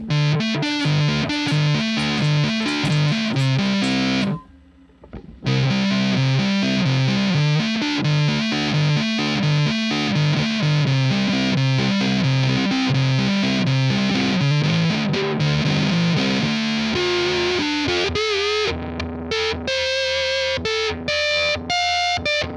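An electric guitar runs through the Voxengo Boogex V3 amp simulator, giving a heavily distorted, continuous riff of chugging chords and notes. A brief drop near the start interrupts it, and the playing is loud and alone throughout.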